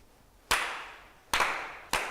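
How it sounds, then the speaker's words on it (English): Hand claps ring out at a Konko Shinto fall memorial service, three sharp, resonant claps in a quiet hall, the first two spaced apart and the last following quickly. "4 sincere claps."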